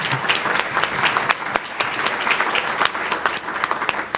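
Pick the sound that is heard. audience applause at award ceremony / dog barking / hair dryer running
audience applause at award ceremony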